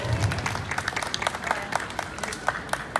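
Applause from a small audience after a self-defense demonstration, steady clapping with sharp individual claps standing out, moderately close, lasting the whole stretch.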